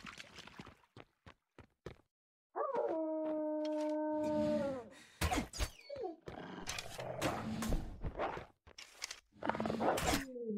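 A dog in the video game Vigil: The Longest Night lets out a long, sustained howl amid scattered clicks, whines and game effects, fairly quiet and close, with no talking.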